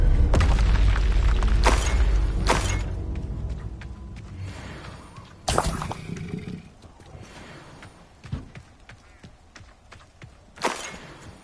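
Fiery Confringo spell blasts in the video game Hogwarts Legacy on PS5: a heavy booming explosion that rumbles and fades, followed by further sharp impacts and roaring bursts, loud and near.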